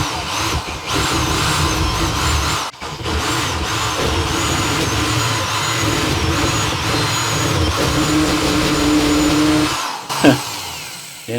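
A space heater runs with a steady, loud, close mechanical roar and whine, continuous for several seconds before cutting out briefly near the end.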